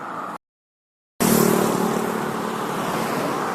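Road traffic on a hot day in Terengganu, Malaysia, with a car passing close by: a steady broadband engine and tyre roar after a brief cut, with a faint low engine hum running beneath.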